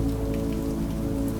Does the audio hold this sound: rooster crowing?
no